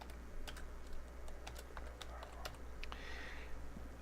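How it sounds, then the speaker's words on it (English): Fingers typing on a computer keyboard, a quick irregular run of soft clicking keystrokes, close and fairly quiet over a low steady background hum, with no talking. "I'm going to go ahead and type my name in there."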